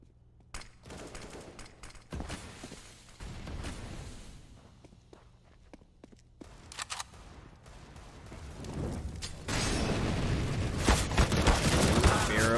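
Counter-Strike match on Mirage with rifle and SMG gunfire: scattered shots and footsteps early, building into dense, loud sustained bursts of automatic fire in the final seconds, under faint commentator talk.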